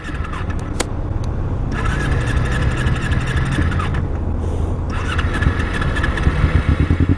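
A motorcycle engine out of gas runs loud and close, sputtering and dropping out before catching and revving again, with a steady rough drone throughout and brief dips where it falters.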